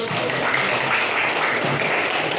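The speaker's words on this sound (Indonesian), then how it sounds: "Boleh tepuk tangan dulu" Applause from a class or group at a lesson on praise and positive reinforcement, a steady dense wash of clapping holding at even loudness for the whole stretch with faint voices underneath.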